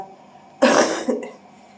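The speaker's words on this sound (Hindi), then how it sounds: "आप लोगों के सामने देखे मुझे कितनी खांसी हो रही है।" A single harsh cough bursts out close up, with a brief follow-up hack, in an otherwise quiet room.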